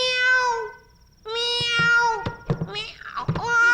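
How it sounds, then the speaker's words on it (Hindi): A cat gives a series of loud, close, drawn-out meows with a short pause after the first, ending in a tangle of rising and falling cries. "बिल्ली है क्या?"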